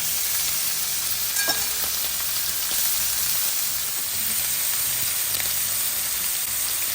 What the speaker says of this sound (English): So now we're going to fry the saltfish.